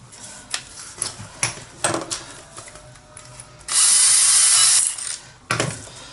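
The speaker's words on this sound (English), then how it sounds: "Screw through that either side and that's it in position." A power drill drives screws through timber to fix a Sanimarin pump-out toilet in place on a narrowboat: a loud, sustained whirring burst of about a second, with knocks and handling clatter before and after it.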